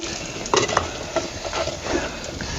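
A tempering sizzles in a pot of drumstick curry cooked the village way over a wood-fired clay stove, a close, continuous crackle broken by a few quick scraping stirs and light metallic taps.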